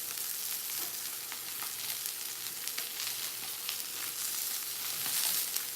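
A halibut filet with rosemary fries in a Saladmaster pan, giving a steady, moderately quiet sizzle with fine crackles throughout and no talking.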